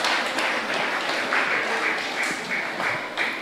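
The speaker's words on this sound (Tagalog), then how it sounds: "Ating pong palakpakan, buhay na palakpak po sa ating mahal na Panginoon" A church congregation claps together during a worship service. The applause is dense and sustained, a loud, even wash with scattered sharper claps, and no voices are heard over it.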